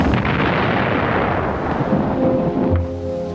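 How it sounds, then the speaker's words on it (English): Heavy World War II artillery bombardment of the French Maginot Line by German guns, a continuous loud rumbling barrage of deep booms with no speech. "After a heavy artillery bombardment"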